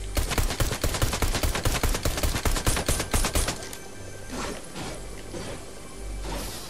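Rapid pistol fire in the video game Fortnite, a fast run of sharp, loud shots for about three seconds, followed by quieter scattered bursts and rustling.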